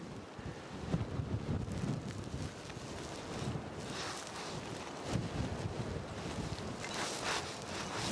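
Gusty wind buffets the microphone on an exposed rock climb, a steady rumbling roar with irregular louder gusts throughout and no other clear sounds.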